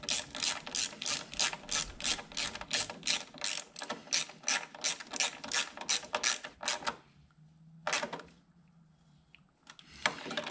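A ratchet wrench turns bolts on a 2011 Yamaha Apex snowmobile during a track change, clicking in a fast, regular run of about twenty close, loud pawl strokes before stopping, followed by a single clank and quiet.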